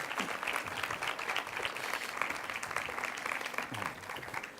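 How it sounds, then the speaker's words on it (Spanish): A lecture audience gives a warm, sustained round of applause to welcome a speaker to a conference on Egyptian sources of the New Testament, dense clapping throughout with little speech. "Pido un fuerte aplauso para Yogari Pujol"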